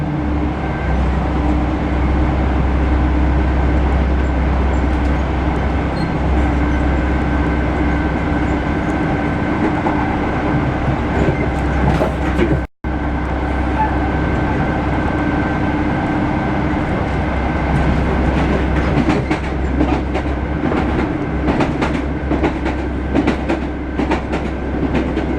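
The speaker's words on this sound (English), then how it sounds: "Going clickety-clack loads now." Train wheels clickety-clack over rail joints on a London service from Paddington to West Ruislip, a steady loud rumble heard from on board at decent speed, the rhythmic clacking growing busier toward the end.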